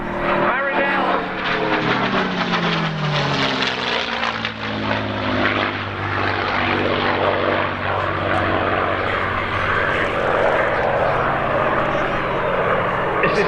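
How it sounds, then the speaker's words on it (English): A North American P-51D Mustang propeller fighter flies by at an airshow, its throaty piston engine drone sweeping down in pitch as it passes, while a voice talks over the engine noise. "coming in from your left, I give you Isabel Rutland, North American P51D Mustang, Marinelle"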